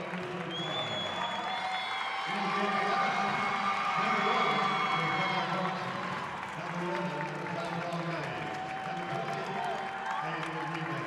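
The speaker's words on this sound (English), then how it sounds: "They'll let all their starters check out and get a nice round of applause." Crowd applause at a state third-place high school basketball game between Baldwin and Atchison as starters check out, a sustained wash of clapping and cheering in a gym beneath a commentator's voice.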